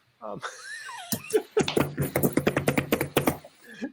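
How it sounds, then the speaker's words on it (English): Typing on a computer keyboard during an online call sounds as a quick, close run of clicky keystrokes, preceded by a brief voice. "you're typing, you should probably mute yourself"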